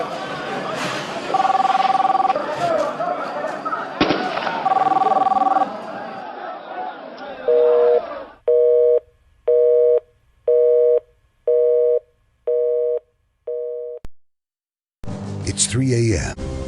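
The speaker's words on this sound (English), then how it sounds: "there's a phone in the White House and it's ringing" A telephone rings repeatedly in a political ad set at the White House at 3 a.m., with regular evenly spaced rings under and after a background of voices and music.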